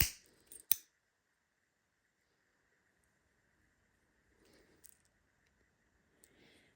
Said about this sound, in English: take your scissors and again trim up the little tail and tuck it in